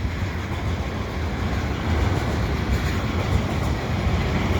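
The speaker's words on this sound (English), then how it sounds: "Probably a loaded oil train, this one." A loaded CP oil train from Alberta, pulled by vintage diesels, rolls past at the Dorval ramps on a winter day, a loud, close, continuous rumble of wheels and railcars with no talk.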